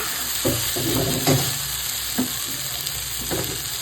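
Small new potatoes fry in oil with a constant bright sizzle. Soft stirring knocks and scrapes recur every second or so, and no voices are heard.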